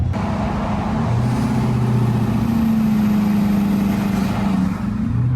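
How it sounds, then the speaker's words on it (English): A heavy diesel engine in a 2019 Ford F-450 Platinum truck drones steadily and loudly throughout, with a low rumbling exhaust and shifting pitch as the Jake engine brake holds on. "That engine brake right there, that Jake brake."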